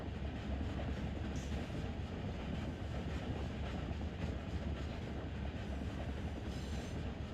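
A freight train of tanker cars hauling potash in Run 8 Train Simulator, on a Trona railroad line in the Searles Valley, rumbling steadily with a continuous, even roll and faint clatter and no voices.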